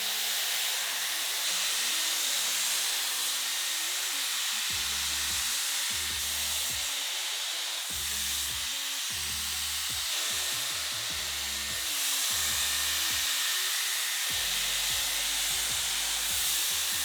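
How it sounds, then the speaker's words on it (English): A hair dryer blows hair dry with a loud, steady airy roar that stays close throughout. Low rumbling bursts come and go beneath it as the dryer is moved around. "this is the first time that I was actually kind of able to blow dry my hair fully back."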